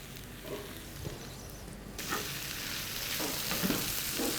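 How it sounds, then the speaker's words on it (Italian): Octopus and potatoes fry with onions in a pan, a steady close sizzle that grows louder and brighter partway through, with a few soft stirring scrapes. "tutto questo lo metto nella padella insieme alle cipolle"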